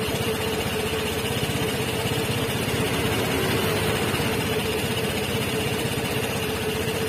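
A Vespa Matic scooter engine running at high RPM gives a steady, loud, close mechanical drone with constant vibration and no change in pitch throughout.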